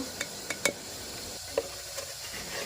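Spices for a vegetable dal stirred in a pan: a few sharp clinks of a spoon against the pan over a steady low sizzle, close by with no voices.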